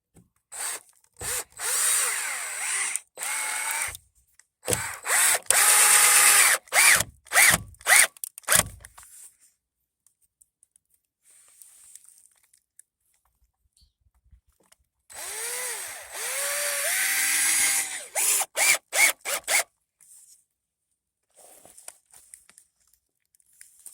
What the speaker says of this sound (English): so you guys can see how the drill does with one of these